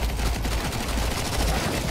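Rapid gunfire from the video game Counter-Strike: Global Offensive, a dense, continuous stream of loud shots filling the whole clip with no pauses and no talk.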